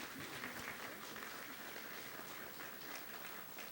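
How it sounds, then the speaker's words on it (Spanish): An audience claps for the speaker at a forum on children's welfare in the State of Mexico. The applause is faint and distant, sounding like an even patter of many hands that holds steady throughout. "Aplauso para la ponente, por favor."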